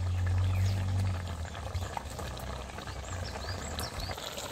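Water bubbles at a gentle boil in a pan for a koi fish and bottle gourd shoot curry, with a soft, close, continuous simmer and a low rumble early on.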